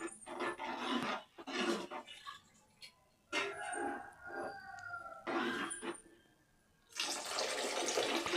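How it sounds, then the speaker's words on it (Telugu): Water is poured into a cooking pan in a home kitchen in several rushing bursts separated by short quiet pauses, fairly close and moderately loud. "ఇప్పుడు కలిపేసుకొని కొంచెం వాటర్ అయితే వేసుకోవాలి."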